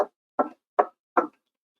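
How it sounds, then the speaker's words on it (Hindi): Four firm knocks on a door, evenly spaced and close, each a sharp thud with silence between, heard alone. "अचानक दरवाजे पर तेज दस्तक हुई"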